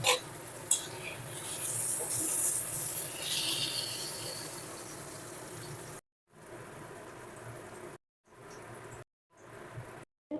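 Pointed gourd (potol) frying in oil in a pan gives a steady, close sizzle with bright crackle, then cuts out abruptly several times toward the end, leaving short bursts of frying between gaps of silence.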